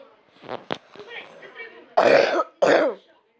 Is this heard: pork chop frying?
no